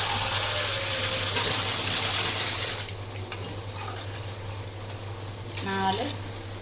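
Water pours steadily into a cooking pot for Sunday biryani, a loud continuous splash for a few seconds that then drops to a quieter trickle, with a brief clink near the end.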